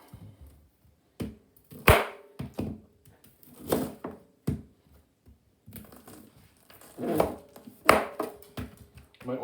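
A knife cuts the ends off ears of sweet corn, giving sharp chopping thunks on a board in uneven pairs and clusters, with soft rustling between the cuts.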